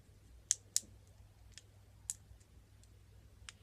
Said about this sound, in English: these three buttons make a noise, but these two don't